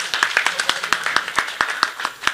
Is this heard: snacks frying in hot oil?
no